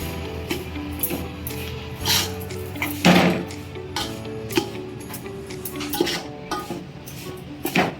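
Ragi flour being stirred and roasted in ghee in a pan for sweet laddus. Irregular metallic clinks and scrapes of a spoon against the pan sit over a faint sizzle.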